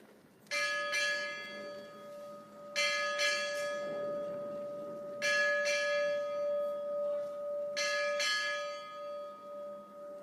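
A ship's bell strikes eight bells in four paired double strikes at a US Navy change of command ceremony, each ringing tone sustaining and fading, over a steady background hum, with no voices.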